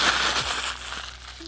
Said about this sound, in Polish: ten papier do pieczenia najpierw zgnieść,